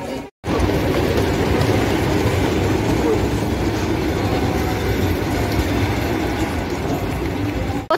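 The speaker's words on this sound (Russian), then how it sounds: "Вот приехал наш поезд." A double-decker passenger train arrives at a station, rumbling loudly and continuously nearby, with clattering wheels and a steady mechanical roar after a brief silence at the start.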